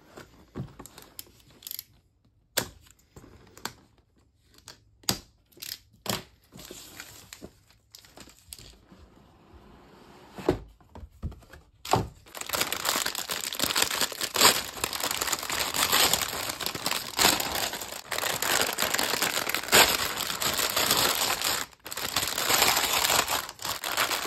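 The box of an HG Qubeley Gundam model kit is opened, first with scattered crisp plastic rustles and taps, then a long, steady, close crinkling of plastic packaging that continues to the end.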